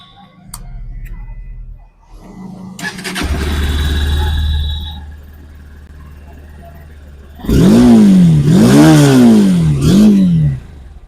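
Honda Hornet 2.0 motorcycle starting up, then idling with a steady low rumble, followed by several sharp throttle blips rising and falling near the mic, with faint talk in the background.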